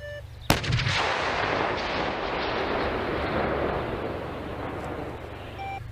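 One powerful shot from a Russian Msta-S self-propelled howitzer cracks out near the start, then a broad rolling rumble lingers for several seconds, heavy and close, with no talking.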